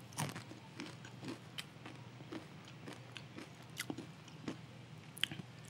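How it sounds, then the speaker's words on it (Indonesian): Close-up crunching of crisp spicy tempeh chips, with a steady run of quiet bites and chews at an even rhythm over a faint low hum, no talking. "chips tempe dengan rasa yang pedas, enak banget. Tempe apa namanya, kerupuk tempenya itu benar-benar renyah"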